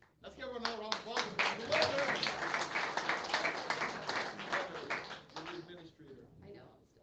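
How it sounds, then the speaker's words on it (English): A crowd at a state representative campaign event claps in a short round of applause, rising quickly, holding fairly loud for several seconds with some cheering, then tapering off. "Let's give her another round of applause."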